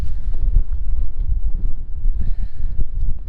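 Strong wind over a lake, heard from a fishing kayak anchored among lily pads: loud, continuous low buffeting and rumble battering the microphone, with no voices.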